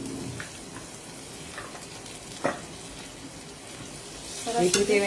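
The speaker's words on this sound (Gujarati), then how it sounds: "જિંજર ગાર્લિક પેસ્ટ નાખી દઉં છું. બાકી બચેલી છે એ બધી નાખી દઉં છું." Ginger garlic paste hits a hot pan in a home kitchen, giving a soft steady sizzle with a few stirring scrapes and a brief louder burst near the end, no talking.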